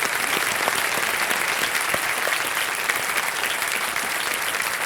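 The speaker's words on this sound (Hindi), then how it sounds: "एक बार तालियां बज जाएं खुशबू जी के लिए" Studio audience on the KBC game show set applauds a contestant, a dense, even stream of clapping held at a steady level throughout, with a few sharper claps near the front.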